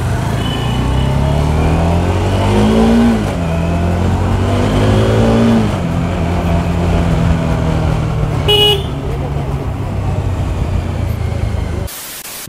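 A Bajaj Dominar 400 motorcycle engine drones steadily while riding, with rising and falling pitch as it revs and shifts, loud and continuous for most of the stretch before cutting off near the end.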